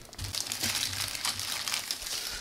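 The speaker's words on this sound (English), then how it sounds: "And it's in a plastic bag, so let's get rid of that." A plastic bag is pulled off a model kit during unboxing, giving close, continuous crinkling and rustling that swells and fades in bursts.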